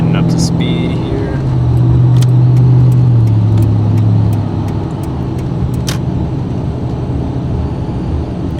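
A Toyota Tundra pickup engine with dual Flowmaster Outlaw exhaust rumbles steadily from inside the cab on a main road, rising briefly as it gets up to speed, with faint clicks and a person speaking over it.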